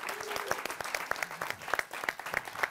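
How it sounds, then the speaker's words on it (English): An audience at a London event applauds, giving a moderately faint, busy patter of many hands with some louder individual claps and a little background voice mixed in. "I think everybody should give Nina a round of applause"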